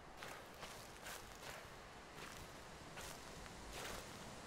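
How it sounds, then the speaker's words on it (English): Footsteps in Slender: The Arrival, a soft, faint, steady tread of separate crunching steps about every half second over a constant noisy outdoor hiss. "Yeah, I'm hearing other footsteps."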